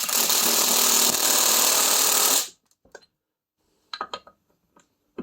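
A rapid power-tool rattle drives the front wheel nuts of a Triumph Spitfire 1500 for about two seconds, then cuts out, leaving a few scattered metallic clicks and knocks.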